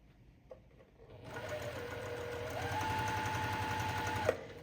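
A sewing machine stitches quilt patchwork pieces, starting after a quiet moment and running in a steady rapid chatter for about three seconds before stopping abruptly.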